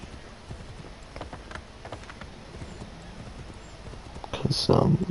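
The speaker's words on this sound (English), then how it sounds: "Get the horse out." Horse hooves clip-clopping in the Assassin's Creed 3 video game, light steady steps under a rain-like hiss, with a louder burst near the end that may be a neigh.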